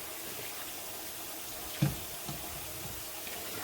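Peeled, cut red potatoes washed under a running tap, a steady stream of water with a soft knock or two, close and without talk.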